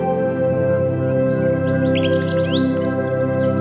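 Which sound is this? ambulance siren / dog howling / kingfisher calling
kingfisher calling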